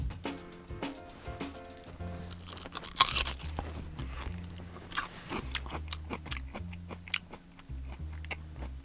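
Crunchy lettuce being bitten and chewed up close, a steady run of crisp crunches with a low rhythmic jaw sound beneath, no talking.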